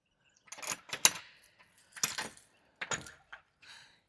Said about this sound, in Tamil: ரூமை திறந்து காட்டுறேன் நான்.